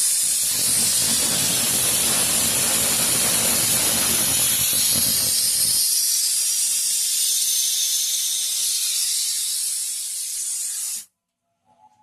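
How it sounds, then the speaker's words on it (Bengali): A pressure cooker holding jackfruit and potatoes lets off a long, loud, steady steam hiss that holds for about eleven seconds before cutting off abruptly, close by with no talk. "এঁচড়া আলু সিটি দিতে দিয়েছি সিটি হচ্ছে তার পাঁচটা সিটি দিতে হবে"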